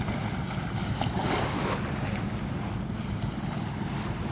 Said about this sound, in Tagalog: Gantong oras pa na nagdaratingan yung mga bangka.